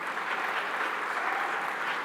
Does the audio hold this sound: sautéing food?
no